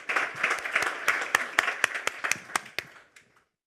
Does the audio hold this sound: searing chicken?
no